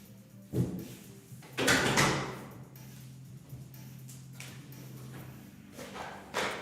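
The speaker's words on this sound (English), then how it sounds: "let me close my door" A room door is handled and shut indoors, with several bumps and rustling thuds spread over a few seconds, moderately close, against a low background hum and no talking.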